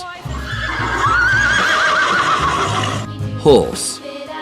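A horse neighs loudly in a long, wavering whinny with a softer second whinny near the end, accompanied by a low rhythmic thumping and some background voice-like sound.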